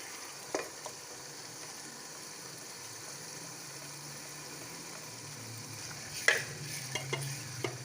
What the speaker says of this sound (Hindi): ये देखिए हमारा मसाला ज़बरदस्त सा भुनने पे आ गया है